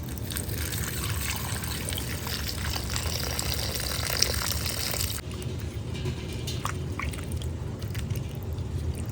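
Potatoes and flattened rice (poha) being rinsed in water, a continuous splashing and trickling with squishy handling throughout, the texture thinning partway through.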